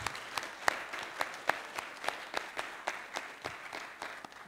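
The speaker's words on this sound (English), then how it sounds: "We should give them this round of applause." An audience at a PERL Nigeria live-streamed event applauds, a moderately quiet spread of scattered, individually distinct hand claps with uneven rhythm, fairly distant and sparse rather than a dense roar.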